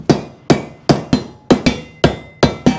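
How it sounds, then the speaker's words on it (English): Sharp, loud hammer blows strike bent metal on an ATV chassis in a quick irregular series of about ten hits, each with a short ringing decay. "I'm gonna beat that in with a hammer,"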